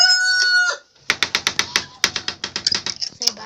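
Chickens clucking in a short burst of rapid, close, sharp calls, after a brief voiced call at the start, with a pause between.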